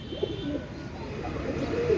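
A young female KTM Teddy pigeon coos softly and repeatedly, close by, over low background noise.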